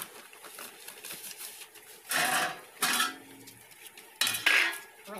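A kitchen knife is handled among metal utensils and dishes, with a few sharp metallic clatters and scrapes in bursts separated by quiet gaps.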